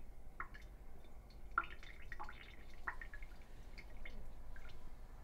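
Water drips from something just shaken off, falling as scattered, quiet droplets in an irregular patter with no talk over them.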